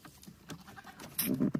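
A goat bleats on a farm, a couple of short cries rising out of quiet background near the end, fairly close and alone without talk.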